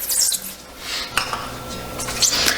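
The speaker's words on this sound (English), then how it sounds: "we're just going to slowly parch this in the pan for just about 2 to 3 minutes" Spices slowly dry-roasting in a pan over low heat, with light scraping and clinking of a utensil against the pan, faint sizzle beneath, no talking.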